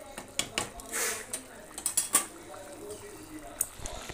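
Omelette curry cooking in a pan on a gas stove, with a run of sharp metal clinks and clatters from utensils against the pan, close and uneven, then quieter.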